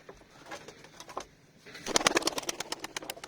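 Tumbler pigeons flutter and coo up close, then a burst of rapid wingbeats and clattering flaps takes over, loud and busy as the birds are released and take off.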